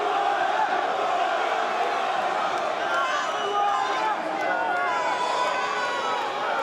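A large crowd at a boxing weigh-in for Carl Froch roars with mixed cheering and booing, a dense continuous wash of voices filling the space with no pauses.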